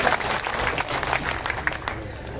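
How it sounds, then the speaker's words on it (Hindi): An audience at a farmers' meeting claps in a dense, steady burst of applause, with a voice briefly audible underneath the clapping. "आप सब अपने लिए तालियां बजाइए"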